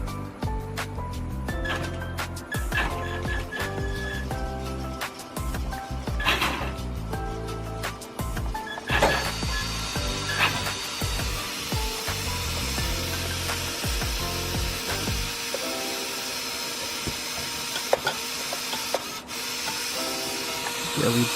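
An RC car's electric motor runs in a dense, buzzing whir with rattling, ratchet-like clicks, mostly steady with shifts in pitch partway through, heard up close alongside some speech.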